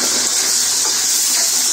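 Water poured into a pan of chickpeas (chola bhuna) cooking on the stove, a brief, loud, steady rushing hiss close by with no talking.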